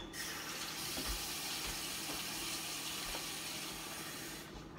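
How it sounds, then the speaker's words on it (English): Water runs and pours in a steady, soft splashing stream for several seconds into a tahini paste to thin it, with no talking. "So what you do is just add some water."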